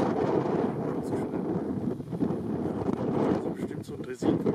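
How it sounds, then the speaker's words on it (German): Wind rumbles and buffets against the microphone beside a railway line near Winterswijk, a continuous low roar with uneven gusts under someone speaking. "Der Wind ist ein bisschen hackelig, macht nichts."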